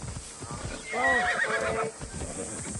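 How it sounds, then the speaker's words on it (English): A horse in a video game neighs once in a bright, wavering whinny over a rhythmic clip-clop of galloping hooves, up close, with a voice faintly audible in the background. "even the horse as you're running with the horse, it feels heavy. Like it feels like you're actually riding a horse."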